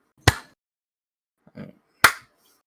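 Two sharp, single hand claps ring out in a quiet room during a podcast recording, about two seconds apart. A soft, brief voice sound falls between them.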